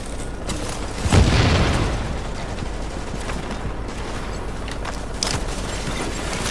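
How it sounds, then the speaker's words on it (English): Enemy gunfire in The Division's Dark Zone, with a loud boom-like burst near the start followed by continuous rattling shots and rumble in a busy combat mix. "Why are you shooting at me, guys?"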